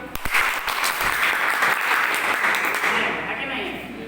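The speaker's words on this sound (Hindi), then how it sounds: "अगर जिंदे वाले ताली मारिए" An audience at a home business meeting claps together in a dense burst of applause that holds steady for a few seconds before tapering off.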